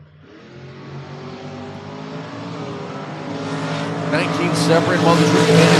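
A Chevy Nova and a pickup truck launching side by side in a drag race at a racetrack, engines revving and roaring louder and louder as they pull away.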